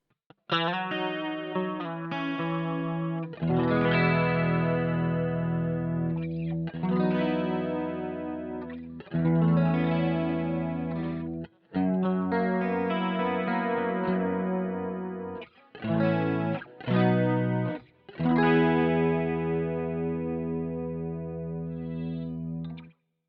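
Electric guitar runs through a Boss GT-1 multi-effects patch with delay, playing sustained distorted chords and phrases in several long sections separated by short breaks, loud and close with echoing tails and no talking.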